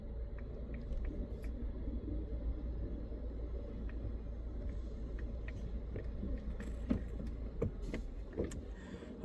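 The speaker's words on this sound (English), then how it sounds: "I'm in the car wash, y'all." An automatic car wash works over a car, heard from inside the cabin as a continuous, enveloping rumble and hiss with scattered light clicks and spatters.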